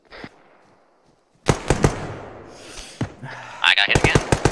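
Gunfire in Arma 3 combat: an isolated shot, then a cluster of sharp cracks, and a rapid string of close shots near the end, with players talking between the bursts.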